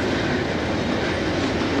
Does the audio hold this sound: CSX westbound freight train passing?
yes